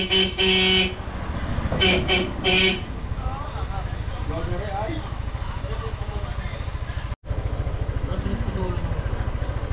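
A loud motorcycle horn honks in several short blasts at the start, followed by a running engine with people talking nearby.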